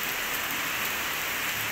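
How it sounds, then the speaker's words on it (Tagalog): Heavy typhoon rain pours steadily in a flooded area, a dense, constant hiss of drops on surfaces filling the short stretch with no voices. "Wala gid ni paguntat ang ulan."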